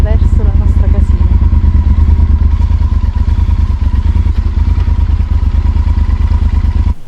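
A motorcycle engine thumps loudly and close at a steady, rapid idle beat while the bike rolls into a campsite and parks, with a voice briefly heard over the engine near the start.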